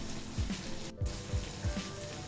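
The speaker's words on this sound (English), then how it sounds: "what you're basically doing is kind of frying the tofu" Tofu browns in a hot pan with a soft, steady sizzle, faint and close, broken by a few low thumps as pieces are shifted, and no voices.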